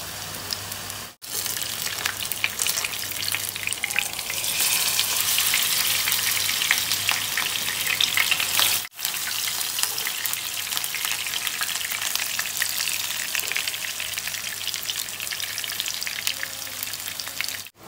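Chicken seekh kebabs fry in a pan, producing a continuous crackling sizzle at moderate level, close and steady, with two brief dropouts and no talking.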